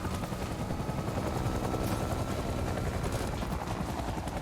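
A helicopter in a video game drones steadily with rapid rotor chopping, a constant mid-level roar mixed with faint gunfire-like crackle in the background.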